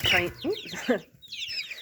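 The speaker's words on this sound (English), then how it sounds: "Right here, this is another Plymouth Barred Rock cockerel" A small, young Plymouth Barred Rock cockerel chick gives a few short chirping peeps, close and clear, with brief pauses between calls.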